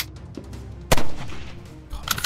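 Gunfire in the WW2 shooter Heroes & Generals: one sharp, loud shot cracks out in the middle, with softer shots and game noise around it.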